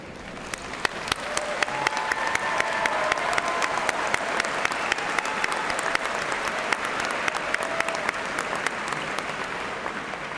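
A large audience applauds at a spring university commencement for a college of letters, arts and social sciences, a steady, sustained wash of clapping that lasts the whole stretch, heard from within a big hall.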